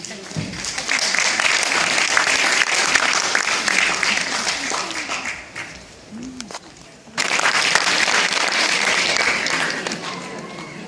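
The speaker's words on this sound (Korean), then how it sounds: "여러분의 뜨거운 박수로 모시겠습니다" An audience at an awards ceremony breaks into sustained applause, which dips briefly midway and then surges back strongly, with voices murmuring beneath the clapping.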